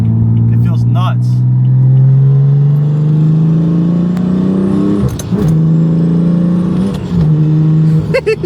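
A BMW F80 M3 engine revs hard and loud through a series of quick gear shifts, its pitch climbing steadily between brief dips at each shift, with short bursts of speech over the drone.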